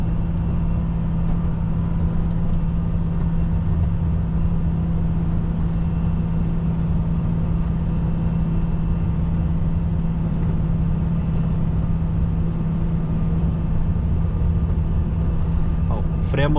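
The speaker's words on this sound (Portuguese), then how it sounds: "O freio motor desse caminhão é tão potente, mano, que, meu, ó, segura, cara." A truck's engine brake holds back a 45-tonne load on a descent, a steady deep drone and rumble from inside the cab, with someone talking over it.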